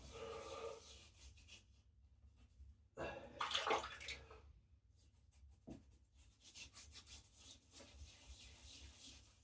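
Martin de Candre shaving soap lather is rubbed into a wet face by hand, soft close squelching and rubbing strokes in irregular bursts, with brief pauses between.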